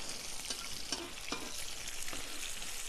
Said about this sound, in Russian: Быстро жарятся, огонь хороший, костер.